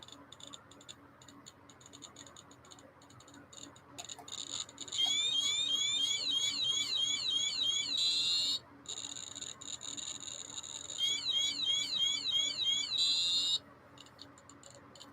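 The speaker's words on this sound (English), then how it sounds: "Right, setting the alarm off on this." A Radiacode radiation meter alarm sounds as rapid, repeating high chirping beeps in two long runs with a short break between them, over a faint background hiss.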